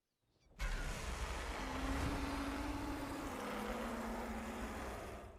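An aircraft air brake in the video game The Wings Of Dawn kicks in abruptly as a loud, steady rushing roar with a faint descending whine, holding strong for several seconds before easing off slightly.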